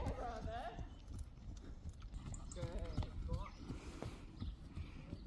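A pony's hooves clip-clop steadily on the ground during a riding lesson over fences, fairly close and rhythmic, while people talk over the footfalls.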